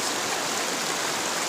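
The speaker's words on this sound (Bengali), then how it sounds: "এই দেখো জলের কি স্রোত" Cold mountain stream water at Rongtong, Shivkhola rushes over rocks in a loud, close, unbroken broadband wash, with no voices.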